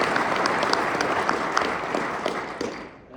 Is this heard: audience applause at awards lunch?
yes